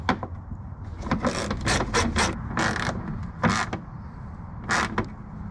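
Short screw driven into the fender of a Lexus GX470, giving several brief creaking, ratcheting bursts of a few seconds each, close and moderately loud, with quiet pauses between turns and no talking.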